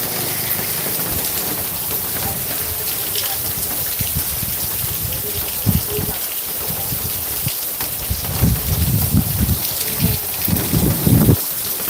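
Rain falls steadily over a village in Khambha taluka, Amreli district, a dense even hiss with heavier patter and rumbling bursts near the end, no voices heard.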